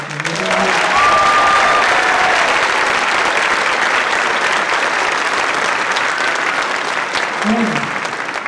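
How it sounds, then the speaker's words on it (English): Loud, dense applause from the audience at an elementary district orchestra concert fills the whole stretch. A few brief voices and tones surface near the start and again near the end. "So we give a round of applause."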